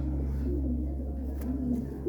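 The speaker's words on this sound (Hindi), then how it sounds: "ये पुराना किसी का उड़ता हुआ कबूतर है" A flying pigeon coos low and steady, a soft throaty murmur close by against a humming background.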